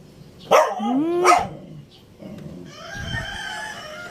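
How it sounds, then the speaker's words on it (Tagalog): A dog makes noise indoors, a few loud sharp yelps or howling cries followed by quieter whining, with brief background sounds between. "Ingay naman ng dog."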